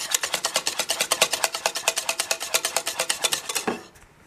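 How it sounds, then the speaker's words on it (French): A whisk beats a cheese mixture in a bowl for a cheesecake-style bite recipe, giving rapid, even metallic clicks and scrapes about ten per second, loud and close, then stopping abruptly. "Je fouette bien."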